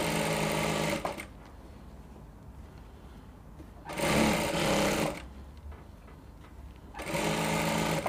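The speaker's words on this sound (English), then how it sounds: "Just turn the dial of your machine to the longest stitch and run a gathering stitch at the middle" Sewing machine running a long gathering stitch on a ruffled sleeve, two close bursts of steady rapid whirring separated by a quiet pause, with a third burst starting at the end.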